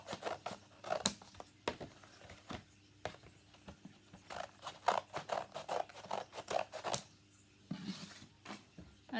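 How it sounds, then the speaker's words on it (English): Scissors snip repeatedly through cereal-box cardboard, cutting off the sides in quick irregular bursts of crisp clipping and scraping, close and fairly quiet, with short pauses between runs of cuts. "And what we're going to do is cut off the sides,"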